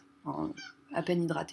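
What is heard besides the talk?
cat meowing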